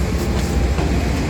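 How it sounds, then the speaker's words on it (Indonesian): Passenger train on the Doho line between Blitar, Malang and Surabaya rolling along the rails, a steady low rumble and hum from inside the carriage with faint wheel clatter, no talk. "11 jam lebih kita dengan kereta Doho ini, melewati sekitar 49 stasiun dari pagi sampai malam."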